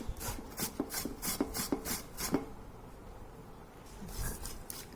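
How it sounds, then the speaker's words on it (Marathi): Fresh turmeric root grated by hand for pickle, a series of quick rasping strokes in a steady rhythm, close and moderately loud, then pausing into quieter rubbing. "आपण जशी हळद किसतोय"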